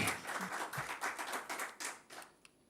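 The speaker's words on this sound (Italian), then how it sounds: "quindi un applauso per lui." A small audience at a talk on regional currency claps, with individual hand claps audible in an uneven, fairly close patter that thins out and fades toward the end.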